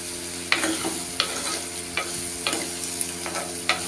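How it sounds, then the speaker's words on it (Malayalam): Gooseberries and curry leaves fry in hot oil for a gooseberry pickle, giving a steady close sizzle broken by sharp scraping stirs about every second, with no one talking. "അപ്പോൾ നന്നായിട്ട് വറുത്തിയെടുക്കാം"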